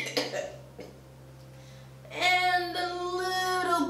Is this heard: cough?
yes